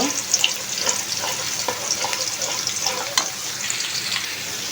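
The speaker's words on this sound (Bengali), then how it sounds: "পেঁয়াজগুলো ভাজা হয়ে গেছে, এখন এটার মধ্যে আমি মশলা দিব।" Fried onions sizzle in a pan as spices go in, a steady crackling hiss with small pops and stirring scrapes throughout.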